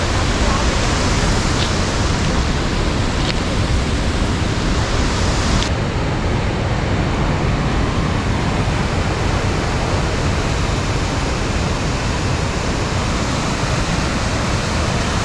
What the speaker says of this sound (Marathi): आता इथे कंटिन्यू पाऊस सुरू आहे आणि मी आहे दूधसागर धबधब्याच्या पायथ्याशी